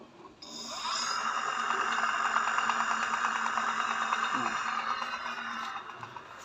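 An e-bike electric motor spins under throttle, a steady high whirring hum with a faint rattle that starts abruptly, holds evenly for several seconds, then cuts off near the end.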